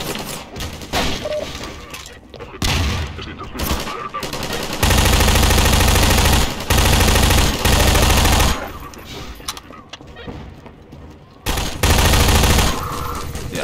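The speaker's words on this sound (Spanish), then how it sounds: "Ese disparo es bestial." Sustained bursts of heavy automatic gunfire from Half-Life 2 urban combat, loud and dense, coming in long rapid volleys separated by short gaps, with no talking over them.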